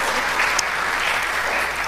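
A church congregation claps together, a dense burst of applause that runs steadily and close for a couple of seconds.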